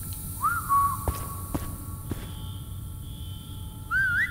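A game character in The Chameleon whistles a short, wavering tune, a brief sliding phrase near the start and another rising one at the end, fairly clear over a low steady background hum.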